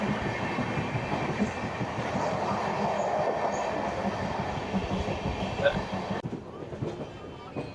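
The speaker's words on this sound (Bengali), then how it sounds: "প্রবেশ করলো আমাদের ট্রেন এখন নৈহাটি জংশন।" A Gangasagar Express with LHB coaches runs on rails, a steady loud rumble and rattle of wheels with faint clicks throughout, the noise dropping and thinning near the end as it approaches Naihati Junction.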